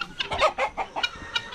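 Chickens kept on a country property cluck in a quick run of short, close calls, about a dozen in under two seconds, fairly loud and alone.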